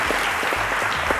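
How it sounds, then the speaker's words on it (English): Studio audience applause for a contestant on the Cowbellpedia quiz show, a steady dense wash of clapping sustained at even loudness, with faint low murmurs beneath. "Round of applause to Onyedikachi."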